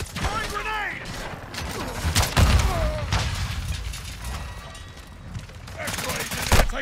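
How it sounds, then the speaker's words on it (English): Combat in the Call of Duty: Modern Warfare II video game, with a grenade blast and gunfire: dense, rumbling battle noise with heavy thuds and bursts of shots, while character voices call out over it. "Throwing grenade!"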